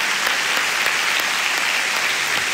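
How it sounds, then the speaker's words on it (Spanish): A church congregation applauds during a sermon, a dense, even wash of many hands clapping that carries steadily from start to finish with no voices standing out. "Aplaudan por favor."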